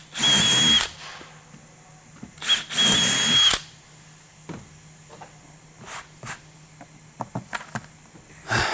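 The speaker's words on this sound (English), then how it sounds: "now we're going to drill these back holes" A power drill bores rivet holes through a Wilson case in short, loud bursts, two whining runs near the start, then lighter clicks and handling noises in a quiet room.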